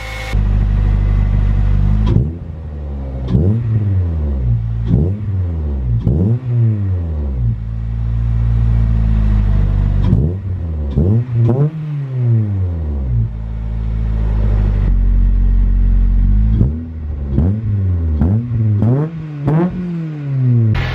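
A Honda Civic Type R EP3 engine with a newly installed Injen cold air intake runs loud and close, rumbling low and repeatedly revving up and settling back down.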